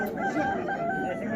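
A rooster crows loudly and close at a poultry market in Muzrabot, its drawn-out call carrying over the steady background of other clucking fowl.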